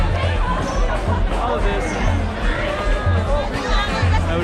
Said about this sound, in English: we're just gonna walk through the crowds